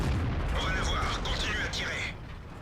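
Heavy tank cannon fire in World of Tanks, with the AMX CDC in play: a loud, deep booming rumble fills the whole stretch, with a brief metallic ring on top, and no talk is heard.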